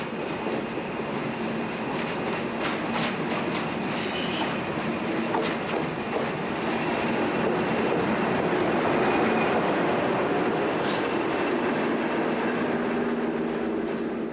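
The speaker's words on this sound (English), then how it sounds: "As this first morning northbound interregional leaves Faro" A northbound interregional passenger train rumbles steadily out of Faro station, Portugal, with clattering wheels and occasional high squeals, loud and continuous throughout, no talking.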